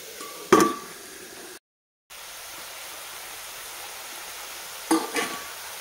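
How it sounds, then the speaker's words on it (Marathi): Grated carrot halwa is stirred and sautéed in a hot open pan, a soft steady sizzle with two sharp scraping strokes of a spoon against the metal, separated by a brief gap. "आपण अजून ह्याला छान परतून घेऊया"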